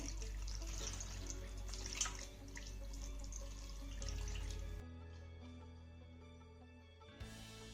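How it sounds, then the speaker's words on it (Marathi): Cold water runs from a tap over soybeans being washed in a kitchen, a steady close rushing stream that cuts off partway through, leaving faint drips before a brief final burst. "हे सोयाबीन आपल्याला पुन्हा एकदा धुवून घ्यायचं आहे मध्ये थंड पाणी घालते"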